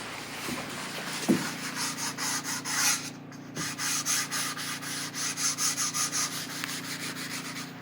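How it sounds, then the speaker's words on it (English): A rag soaked in stain is rubbed back and forth across a wooden board, giving steady rhythmic scrubbing strokes, close and continuous, with one brief pause midway. "And then just start rubbing it on your board."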